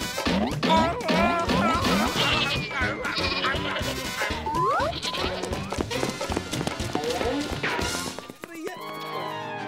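Several goats bleat in a Hindi children's cartoon, overlapping cries mixed with busy music and cartoon sound effects, with thumps and crashes, loud throughout before fading near the end.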